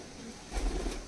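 A male golden-eye pigeon lets out a single short, low coo that swells briefly in the second half, close by and fairly quiet over faint background hiss.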